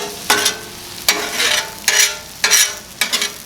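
Onions stirred into sizzling steak meat on a Blackstone griddle: five scraping spatula strokes at a steady rhythm over a constant close, loud frying sizzle, no talking.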